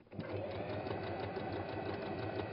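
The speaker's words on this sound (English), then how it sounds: "And you're going to sew along the drawn line." A sewing machine stitches steadily along a drawn line on a quilt, running at an even, fast rhythm with longer stitches. The whirring motor stays close and constant throughout, with no talking.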